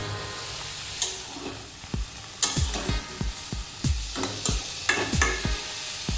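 Eggplant with dried loitta fish and spices stirred in a pan with a little water, a steady sizzle punctuated by a rapid series of dull thumps and scrapes from the spoon, close and loud.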